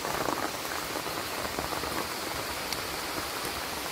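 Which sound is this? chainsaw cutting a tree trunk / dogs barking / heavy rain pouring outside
heavy rain pouring outside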